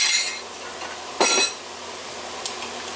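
Metal utensil clanks once against a pot while crushed hot red peppers and garlic are stirred in, over a steady sizzle, with a faint clink near the end and no talk.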